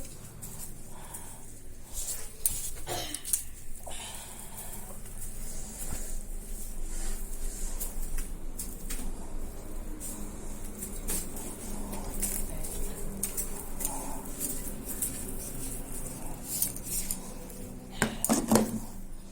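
A broom sweeps across a home veranda with repeated scratchy, brushing strokes, steady and close, with a few sharper scrapes and light clatters along the way and no voices.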